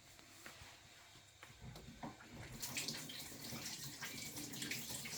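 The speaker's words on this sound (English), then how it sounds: "I'm just washing my hands, making sure my hands is all clean." Tap water running into a kitchen sink while hands are washed, soft and near, swelling louder and brighter halfway through as the flow splashes over the hands.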